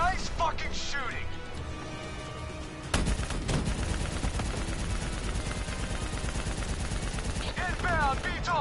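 Call of Duty Black Ops 3 campaign battle: dense, loud sustained automatic gunfire and rattling bursts with a heavy crash partway through, mixed with in-game shouting voices.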